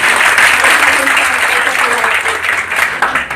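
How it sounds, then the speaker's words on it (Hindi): Loud applause fills the hall at a girls' self-defence training event in Niwari, a dense steady clapping crowd sustained throughout with some voices mixed in. "तो एक बार तो जोरदार तालियों के साथ हम धन्यवाद करेंगे"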